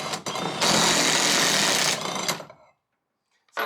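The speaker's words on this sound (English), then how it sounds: "This little impact's got some nuts." A small impact wrench drives the U-bolt nuts on a 2004 light-duty truck's differential, one loud sustained rattling hammer burst up close that cuts off sharply, then brief silence and another burst just starting.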